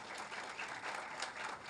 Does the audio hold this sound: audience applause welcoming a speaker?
yes